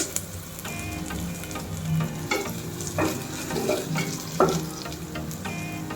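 Green chillies frying in a pan with other ingredients, a continuous sizzle with scraping stir strokes on top, close and steady, with no voices.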